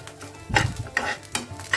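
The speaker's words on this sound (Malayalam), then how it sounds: "അപ്പോൾ കൈ വിടാണ്ട് ഇത് ഇളക്കി ഒരു ബ്രൗൺ കളറാകുന്നവരൊക്കെ നമുക്കിതൊന്ന് വറുത്തെടുക്കണം." Grated coconut is stirred while it roasts in a pan for a fish curry, giving a few close, uneven scraping strokes over a faint dry sizzle, with no talk.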